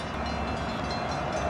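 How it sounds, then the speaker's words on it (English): Continuous rumble and rolling rail noise of a train running through the city at Jack London Square in Oakland, steady and fairly close, with no voices. "this train just runs right through the city here"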